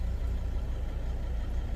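A car engine runs at a steady idle just after starting, a constant low rumble held evenly throughout with no voices.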